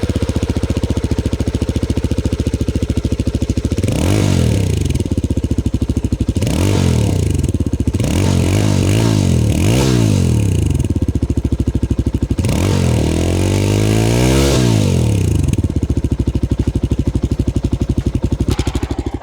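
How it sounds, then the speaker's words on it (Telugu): A Yezdi Scrambler 69 motorcycle exhaust rumbles loudly and steadily at idle, climbing through about four separate revs before settling back each time, with no talking. "సో ఈ ఎగ్జాస్ట్ నోట్ ఎలా ఉంటుంది అనేది ఒకసారి చూద్దాం మనం."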